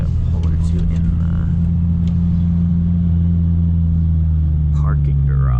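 Inside a modified Honda Civic, a steady low engine drone and road rumble hold throughout. The engine does not clearly rise into a hard pull, and faint voices come and go over it.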